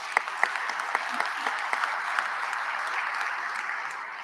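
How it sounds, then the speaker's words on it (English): An audience at a state agricultural convention applauds steadily, the claps forming a dense, even wash at moderate distance with a few sharper individual claps standing out, sustained throughout without speech. "let's give them a round of applause."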